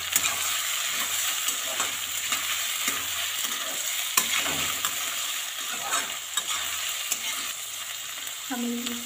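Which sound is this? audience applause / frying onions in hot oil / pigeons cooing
frying onions in hot oil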